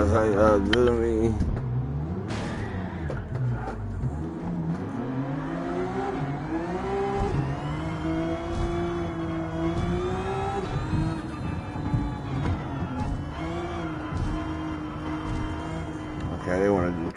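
A race car engine in the Gran Turismo video game revs and shifts continuously, its whining tone sweeping up and down through gear changes at a fairly loud, even level.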